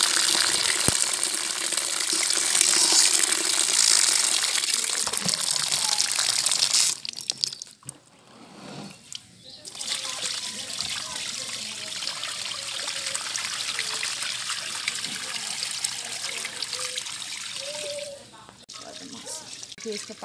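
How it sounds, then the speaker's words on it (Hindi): Washed chillies, kudrum pickle ingredients, have their rinse water drained off in a home kitchen, giving a steady trickling, pouring wash of water with a brief pause and a few soft knocks, close and fairly loud. "इसको पानी को निगोड़ ले रहे हैं एक बार।"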